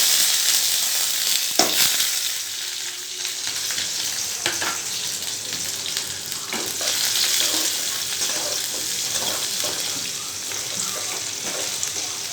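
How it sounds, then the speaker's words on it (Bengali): Dried red chillies and chopped onion frying in a pan give a continuous close hiss, broken by occasional clinks and scrapes of a spatula stirring, with no voices. "এভাবে একটু ভেজে নিয়ে তারপর কুমড়োটা দিয়ে দেবো"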